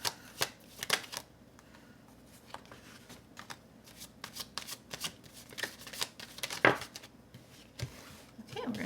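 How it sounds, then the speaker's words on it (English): A deck of tarot cards is shuffled by hand, close up, in quiet riffling bursts and soft slaps with irregular pauses, and a faint voice is heard briefly. "so I'm just going to keep shuffling for a little bit."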